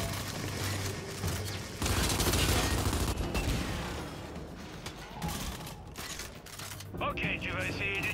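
Gunfire from a weapon in the video game Gears 5: bursts of shots and mechanical weapon clatter in the game's sound mix, with a louder stretch of rapid fire near the middle.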